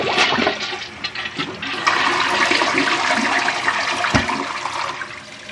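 An American Standard 1.26-gallon toilet flushes up close, a loud steady rush of water pouring out for several seconds without a pause.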